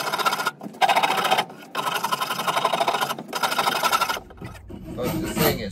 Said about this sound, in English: Kind of digging the Shinto rasp